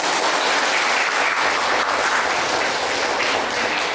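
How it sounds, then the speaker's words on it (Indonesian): Steady, dense applause from a classroom of students fills the whole stretch at even loudness, with no talk over it. "Tepuk tangan dulu."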